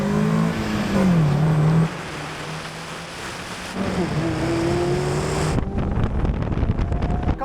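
Mazda Roadster sports cars, NA through ND generations, racing a quarter-mile drag strip. Engines rev and pull hard with rising tones and a shift or two, under steady wind buffeting.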